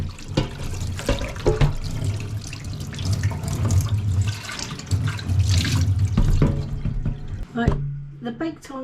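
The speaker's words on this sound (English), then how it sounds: "Let's give it a rinse." Tap water runs steadily over a Ninja dual air fryer basket being rinsed in a sink, with splashing and clattering of the basket, fairly close, ending in a few drips.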